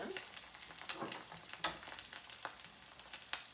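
A couple of eggs frying in a pan, a soft steady sizzle with small crackles and pops, fairly quiet and close, with no talk over it.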